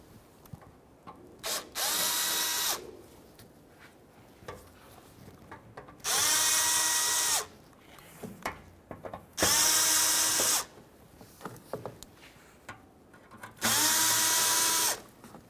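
A power drill backs out Phillips head screws from the front valance of a 2005-2021 Nissan Frontier, whirring in four loud, separate bursts of roughly a second each, with quiet handling clicks between them.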